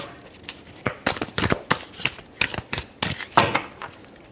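Tarot cards are shuffled close by in a quick series of crisp riffling bursts and flicks, about a dozen in rhythmic succession over four seconds, with no talking.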